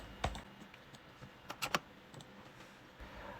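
Short bursts of keystrokes typing a number into a computer keyboard during CAD modelling work, a few quick soft clicks clustered together in a quiet room.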